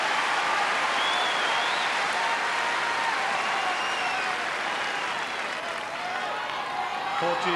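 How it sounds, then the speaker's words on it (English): Tennis crowd in a stadium applauding and cheering as Henman reaches match point against Rafter, a sustained broad roar of clapping that holds steady throughout, with a few faint whistles in the crowd. "So the noise from the crowd tells you that Henman has reached match point"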